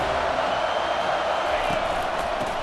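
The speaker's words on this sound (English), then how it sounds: "this crowd trying to help keep them there" A college football stadium crowd during a Florida versus FSU game roars in a dense, sustained wash of cheering and noise, loud and unbroken, with a commentator's voice mixed in.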